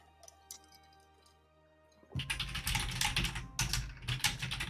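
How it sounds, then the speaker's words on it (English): Rapid typing on a computer keyboard during an online group call, loud, dense clatter of keystrokes starting about halfway through after a quiet stretch, no talk over it. "You should mute yourself while you're typing"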